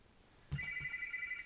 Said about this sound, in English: I'm sorry for the friggin' phone ringing. It's just my landline.